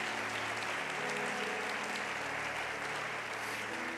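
A church congregation applauds, a loud, dense and steady wash of many clapping hands filling the room without a break, with a low hum of instruments underneath.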